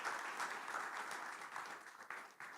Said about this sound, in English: Please, a resounding round of applause